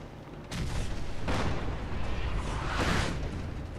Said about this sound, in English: That is what the artillery smoke grenades do.